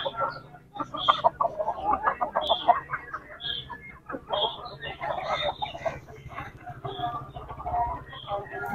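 Aseel chickens cluck and call repeatedly at close range in short, irregular bursts, mixed with some background voices.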